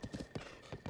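Horse hooves in Zelda: Tears of the Kingdom, a quick run of clip-clop footfalls in an uneven galloping rhythm, close and fairly clear, with no talk.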